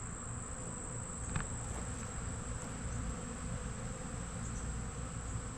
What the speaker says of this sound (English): Look like happy, fat bees.